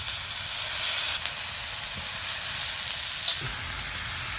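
Green onion with a coarse chili, garlic and peanut paste roasts in an iron pan, giving a steady loud sizzle and hiss close up, with a few soft stirring scrapes and no talking.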